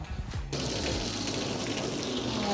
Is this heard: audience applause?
no